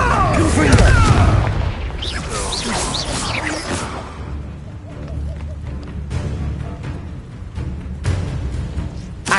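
Fire-spell explosions from Hogwarts Legacy burst with booming blasts and whooshes, loud at first and then repeated over a rumbling game soundscape.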